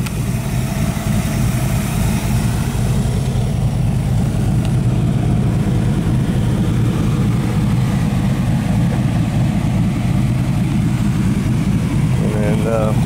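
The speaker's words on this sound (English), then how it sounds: "There's the engine. Once again, it is running. I'm sure you can hear it." A 1965 Cobra replica built by Classic Motor Carriages runs steadily, its low engine rumble continuous and close throughout, with a faint brief chirp near the end.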